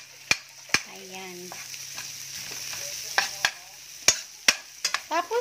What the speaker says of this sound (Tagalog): gisa lang po natin ang ating sibuyas, bawang, luya, pa-brownie natin.